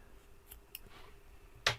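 Scissors snipping crochet yarn flush with the work, a few small faint clicks followed by one sharp, crisp close snip near the end, otherwise quiet.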